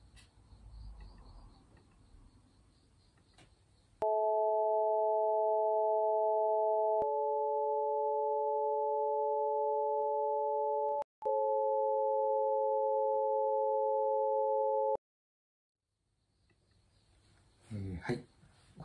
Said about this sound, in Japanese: これは1度と8度をオクターブで重ねて、その間を5度、4度、3度と、推移した音です